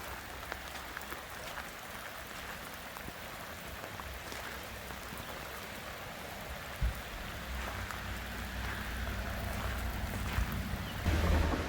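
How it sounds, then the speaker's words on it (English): Steady rain falling in Belfair State Park near Mission Creek, a soft continuous hiss of drops on surfaces with low rushing water beneath, even and unbroken throughout with no voices. "because of all the rain right now,"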